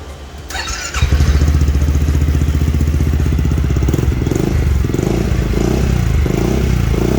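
A Yamaha X-MAX scooter with a modified, cut-open stock exhaust starts after a second of quiet and settles into a loud, close, steady idle with a throaty burble.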